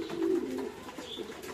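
Pigeons at a desi pigeon farm give a soft, close coo that rises and fades within a second, followed by quieter faint calls in a calm setting.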